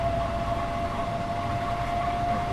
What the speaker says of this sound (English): Like the train shaking back and forth like crazy.